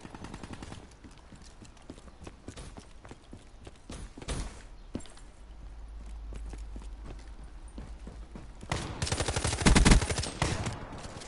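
Shotgun and other gunfire in a Black Ops 3 multiplayer match, rapid clattering shots and footsteps throughout, swelling into a loud burst of blasts near the end.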